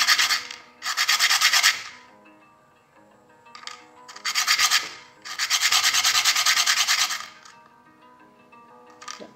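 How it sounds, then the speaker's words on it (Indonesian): Rough strokes of grit-80 sandpaper on a brass, copper and nickel silver ring rasp in bursts, some short and some long, with quiet pauses between, close and clear. "Kita pakai amplas nomor 80 teman-teman."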